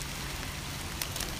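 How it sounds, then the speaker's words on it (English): Heavy rain pours down in a dense, continuous hiss, close and loud, with a few sharper drops splashing near the end of a short stretch with no talking. "This is just more rain than my camera can stand."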